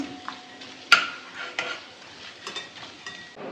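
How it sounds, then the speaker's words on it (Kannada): Spoon stirring ground spices in a cooking pot for cumin rice: one sharp metallic clink near the start, then soft scraping and light knocks against the pot. Fairly quiet and close, with no talking. "ಸೊ ಸ್ಟೇರ್ ಮಾಡೋಣ ಸ್ವಲ್ಪ 2 ಸೆಕೆಂಡ್"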